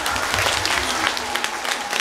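Loud, dense applause from a crowd at a primary school graduation, continuous and close with no gaps.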